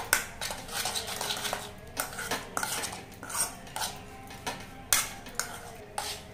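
Semolina batter being mixed by hand in a bowl for motichoor laddu, with repeated scraping and clinking of a utensil against the bowl in irregular bursts, close and moderately loud, no voices.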